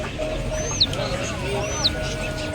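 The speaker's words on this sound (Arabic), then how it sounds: "هاي الدجاجة شايفتها؟" A chicken at a street market in downtown Amman clucks twice in short rising calls, a second apart, over a busy background murmur of people.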